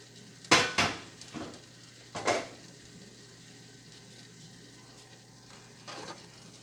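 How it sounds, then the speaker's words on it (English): Food from a deep pot being moved into a large skillet, with a few sharp metallic scrapes and clanks of a utensil against the pans over a faint sizzle, close by, no talk. "I'm going to transfer what's in my deep pot into this skillet"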